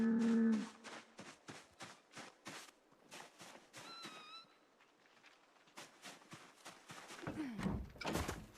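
A cow moos in a survival video game: a low, drawn-out call near the start, followed by a run of dull thunks and knocks and a short sliding creak near the end.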